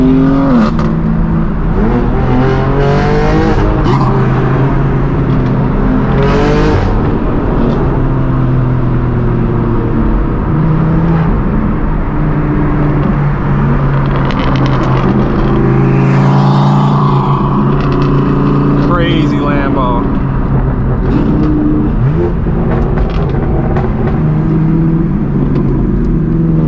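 Loud, raspy exhaust from a straight-piped BMW M4 G82 while driving, engine droning continuously with rising revs, pops and bursts of acceleration, heard close and alone without talk.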